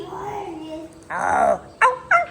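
A dog at home whines with a long drawn whimper, then gives a louder yelping burst and two short sharp yips, all close by.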